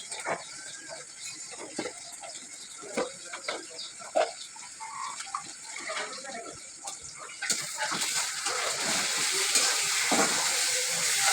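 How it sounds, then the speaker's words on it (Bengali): A turmeric, chili, ginger and garlic spice paste fries in a pan while a spoon scrapes and stirs it in uneven strokes, and the sizzle swells louder and fuller partway through, close by. "হলুদ মরিচ আদা রসুন দিয়ে আগে মশলাটা কষাই দিই"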